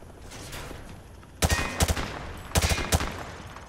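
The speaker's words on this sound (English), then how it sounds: "He sprayed bullets all over the damn place." Rifle gunfire sprayed from the hip on a Call of Duty shooting range: two sharp bursts of several rapid, loud shots each, separated by a short pause, over a low quiet background.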